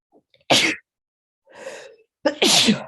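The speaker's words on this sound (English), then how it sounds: "I gotta sneeze." Two loud sneezes close by, the first short and sharp, followed by a breathy inhale, then a second, fuller sneeze.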